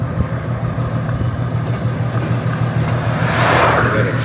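A train rumbles along railroad tracks in a small Cajun Country city, a loud, continuous low roar with steady engine drone that swells slightly toward the end.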